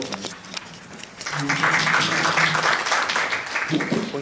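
After a short stretch of talk, a burst of audience applause rises and holds at a policy forum on blockchain, AI and big data, with a voice speaking alongside it.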